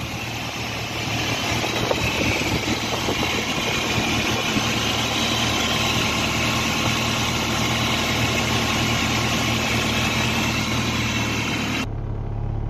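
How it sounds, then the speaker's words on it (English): A 1999 Mitsubishi Colt 2.0 long-wheelbase single-cab bakkie idles steadily, its engine giving a continuous, close, even rumble with no knocking or ticking. The sound cuts off abruptly near the end. "engine sounds solid"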